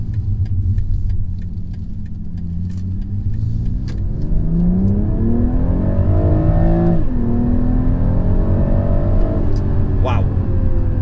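A BMW M340i G20 with xDrive and a ZF eight-speed gearbox accelerates hard, its engine note climbing steadily through a gear change, loud and close from inside the cabin, with a voice speaking over it early on.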